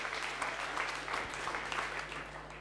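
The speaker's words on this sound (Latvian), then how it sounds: "Paldies, aplaus jums un aplaus kungiem" An audience at a talk on humor by Kaspars Breidaks applauds in steady, dense clapping. The applause sounds moderately loud and continuous, with a low hum running underneath.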